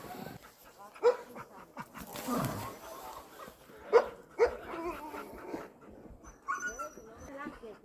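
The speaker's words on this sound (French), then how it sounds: "Là, en fait, les chiens, vous entendez, ils ont envie de courir." Several sled dogs in a Finnish snow setting, eager to run, give scattered sharp barks and whimpers at mid distance, with people talking quietly in between.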